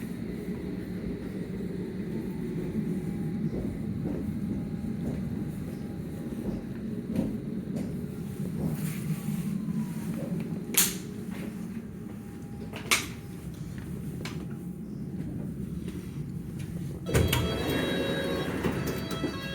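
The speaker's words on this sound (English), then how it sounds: "This is an all-station Metropolitan line train to Aldgate." An all-stations London Underground Metropolitan line train runs between Watford and Aldgate on a rainy day. A steady low rumble fills the carriage, broken by a few sharp clunks and a louder jolt near the end.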